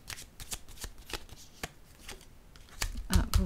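Tarot cards are shuffled and drawn close by in a run of crisp riffling snaps and flicks at an uneven rhythm, ending with louder handling and a soft thump, with no talk over it.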